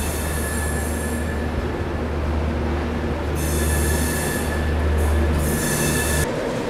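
The Mumbai-Howrah Duronto Express runs along the rails, a loud, continuous rumble of wheels and carriages with high-pitched wheel squeals coming and going over it, heard close from on board.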